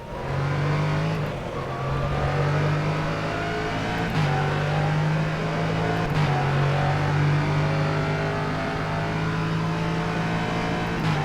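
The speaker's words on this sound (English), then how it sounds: "I rely a lot on the sound of the engine for the revs" Norma M30 LMP3 race car engine at Interlagos in the rFactor 2 racing game, a loud, meaty drone rising through the revs with brief dips at gear changes, alone without talk.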